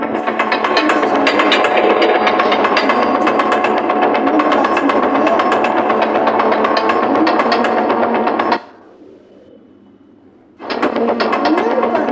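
Loud, continuous mechanical clatter and rumble of a train in the video game Granny, with rapid rhythmic knocking, briefly dropping to a quiet hum before resuming.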